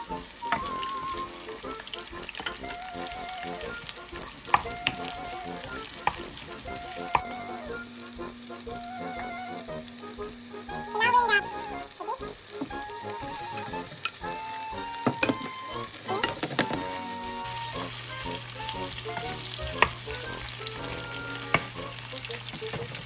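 Garlic and onion frying in a pan for an Asian-style beef steak dish: continuous close sizzling with occasional stirring clinks and scrapes, steady throughout, with no talk.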